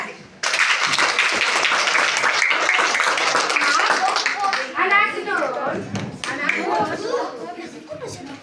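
A schoolroom of pupils breaks into quick, crisp group clapping that starts abruptly and runs for several seconds, then fades into children talking and calling out over scattered claps.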